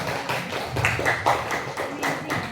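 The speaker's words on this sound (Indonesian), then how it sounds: "tepuk tangan untuk Rizky" A classroom group applauding a student after a lesson presentation, with rhythmic clapping from several pairs of hands, fairly close and continuous throughout.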